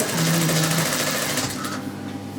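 A sewing machine runs in one steady, close, continuous whir as it stitches the lining of a neckline, with a faint rise and fall in its motor hum.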